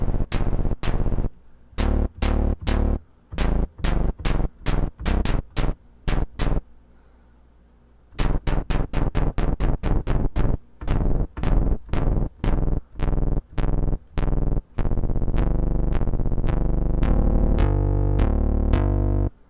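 Reason Subtractor polyphonic synthesizer with its noise oscillator mixed in, playing short 8-bit style drum-like hits in a fast rhythmic run, a brief pause near the middle, then quicker repeated notes and a sustained tone; loud and alone.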